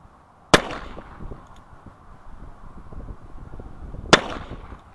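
Two sharp gunshots at an outdoor shooting range in winter, a few seconds apart, each a loud close crack with a short ringing tail over low background rumble.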